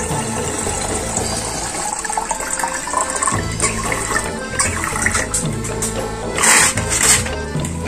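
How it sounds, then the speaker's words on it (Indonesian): Water running and splashing into a container being filled to 5 liters for a hydroponic AB mix nutrient solution, a loud continuous gush with gurgles and brief louder splashes near the end. "Nah tinggal kita penuhkan airnya sehingga jadi 5 liter."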